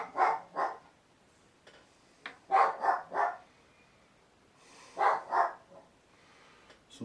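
A dog barks at people walking past, in two or three separate bursts of quick, fairly close barks with quiet gaps between them.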